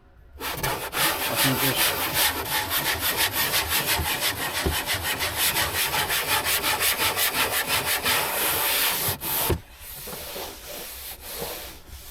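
Steady rhythmic rasping of 120 grit sandpaper worked by hand over wood, close and continuous for about nine seconds before stopping, with a brief voice near the start.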